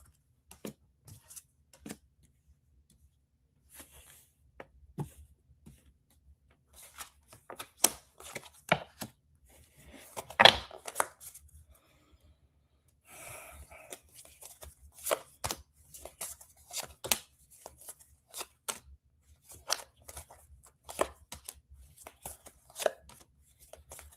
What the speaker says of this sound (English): Now you saw me shuffle those cards